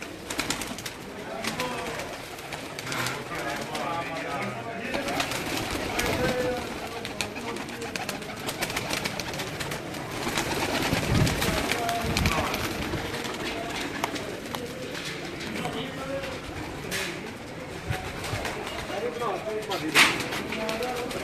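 Breeder pigeons cooing steadily in a busy loft, a dense wash of overlapping coos running throughout with people talking nearby.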